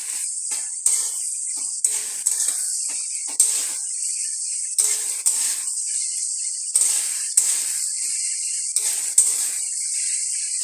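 Onions and green chillies sizzle steadily in a hot pan, a bright continuous hiss punctuated by regular light scraping clicks as they are stirred, close and fairly loud, with no voices.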